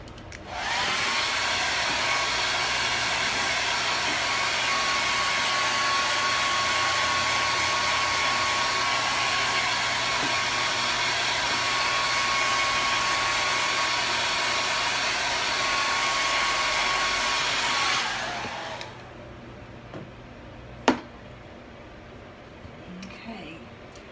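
A hair dryer blows loudly and steadily for about eighteen seconds, then switches off, leaving near quiet with a single sharp tick.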